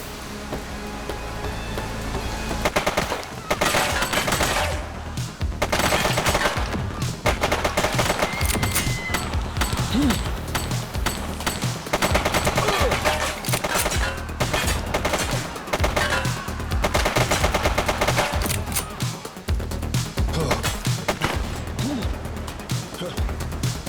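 Sustained gunfire in The Precinct, with rapid bursts and single shots cracking almost continuously and loudly, mixed with frequent shouted voices and game sounds throughout.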